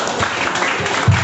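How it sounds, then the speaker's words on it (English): Audience applause at a school climate change debate, a short burst of broadband clapping that stays fairly steady and loud throughout, with a low thump near the end. "You guys clap for her once more."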